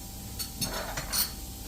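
Sorghum dhokla batter mixed in a bowl after Eno and lemon juice go in, giving a few soft scraping clinks of a spoon against the bowl over a quiet background.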